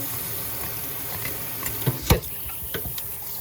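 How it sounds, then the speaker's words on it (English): Cold water running steadily from a kitchen tap while a fish is cleaned, a continuous close hiss broken by a few brief knocks and splashes. "It's good to keep her under the water, running water, cold water."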